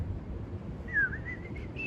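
A person whistles a brief melodic run from a bebop jazz tune while walking into a studio, faint and thin over low background rumble.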